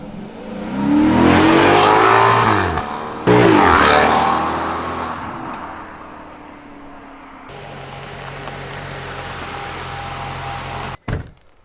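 A broken Maserati GranTurismo engine revs loud and close in two long roaring bursts, then settles to a lower steady drone before a sharp thunk at the end.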